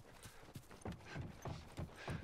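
Horse hooves in the video game The Last of Us clip-clop in a steady trotting rhythm, fairly quiet, with no voices over them.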